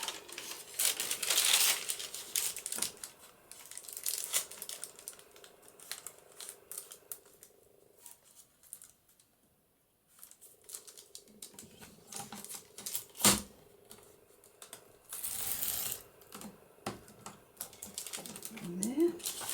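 Scissors cut paper for a magnetic over-the-page pocket in a junk journal, giving several crisp snips and crinkly rustles close to the mic, with a quiet gap in the middle and brief talk.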